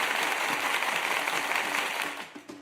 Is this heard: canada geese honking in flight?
no